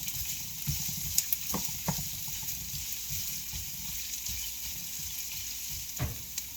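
Garlic and ginger frying in a pan for Ilocano-style chicken with bitter melon, a gentle continuous sizzle close by, broken by a few soft knocks and scrapes from stirring.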